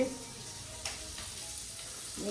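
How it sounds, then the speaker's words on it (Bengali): Three bhola fish fry in hot oil, giving a continuous close sizzle with small crackles and a few brief spatters across the short stretch. "ভোলা মাছ তিনটে ভাজা হচ্ছে"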